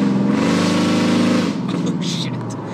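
A 2008 Ford Interceptor's loud aftermarket exhaust drones with a steady, throaty engine tone while driving, then eases off slightly partway through.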